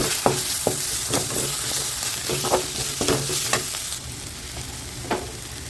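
Chili powder, coriander powder and ginger-garlic paste sautéed in a hot pan for a mushroom gravy, a dense close sizzle broken by repeated sharp scrapes and taps of a spoon stirring, with no talking.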